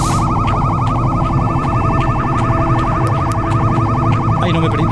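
Siren-like wail of the Siren Head monster in a horror video game, a loud, continuous, rapidly warbling electronic tone that fills the whole clip without talk.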